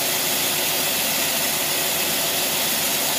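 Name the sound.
carbureted engine idling below 1,000 RPM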